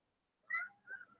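A cat meows twice in quick succession, close and clear, with a brief quiet before it and no talking over it.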